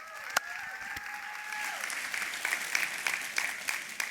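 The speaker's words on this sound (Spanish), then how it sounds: "Fuerte aplauso, por favor." Audience at a Spanish-language church service breaks into applause, a steady patter of clapping lasting a few seconds, moderately close and without speech over it.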